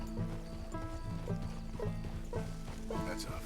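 Horse hooves clip-clop in a steady, even rhythm on a dirt path in Red Dead Redemption 2, close and moderately loud under a layer of background music and ambience.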